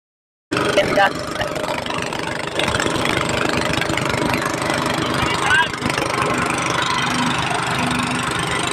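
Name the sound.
boat motor engine running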